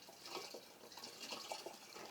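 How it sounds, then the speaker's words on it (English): Liquid organic fertilizer poured slowly into a jerry can, a faint, uneven trickling and splashing of liquid with soft drips, continuous and close, without talk. "We pour it slowly and nicely."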